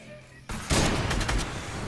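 Fortnite gunfire erupts partway through, a loud burst of rapid shots and a few sharp reports after a quiet start, close and dominant.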